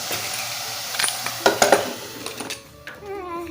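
A piece of fish frying in a pan, heard as soft sizzling with scattered clinks and scrapes of utensils against the pan, fairly close and unobtrusive.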